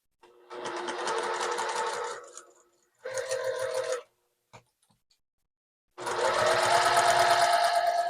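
A sewing machine stitches a quilt block seam in three separate runs: two quick bursts, a short pause, then a longer steady whir of needle strokes, close and clear with no voices.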